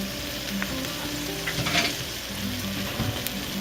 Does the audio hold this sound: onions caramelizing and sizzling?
yes